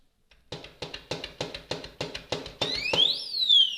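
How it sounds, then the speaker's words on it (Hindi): The built-in alarm on a Godrej Interio safe goes off with a series of eight sharp, evenly spaced beeps. It then switches to a loud, continuous rising and falling electronic siren close by. "मैंने सिर्फ थोड़ा सा हाथ मारा और अलार्म बजना शुरू हो चुका है"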